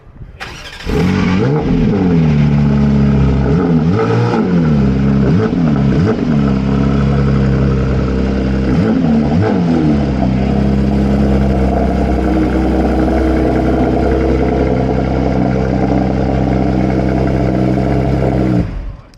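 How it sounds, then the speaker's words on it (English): V12 supercars at a custom workshop's grand opening rev loudly and close, with repeated throttle blips rising and falling before settling into a sustained, droning high idle. "My ears are still ringing from all those V12s revving."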